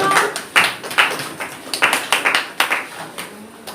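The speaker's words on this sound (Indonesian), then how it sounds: "tepuk tangan untuk Marta" A classroom of students claps for a classmate about to present, a scattered, uneven patter of hand claps rising in short bursts that swell and fade several times, fairly close and alone without talk.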